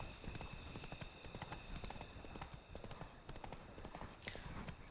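The horse Roach trots in The Witcher 3, a quick steady clip-clop of hooves on the ground, moderately close and continuous, with faint ambient game sound behind it.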